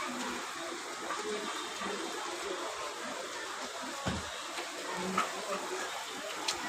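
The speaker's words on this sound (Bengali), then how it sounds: "আমার বাসা থেকে দেখা যাচ্ছে তুমুল বৃষ্টি।" Heavy rain and runoff water in Ashulia, Dhaka, seen from a home, a steady broadband wash of rainfall and flowing water with occasional louder splashes, continuous throughout.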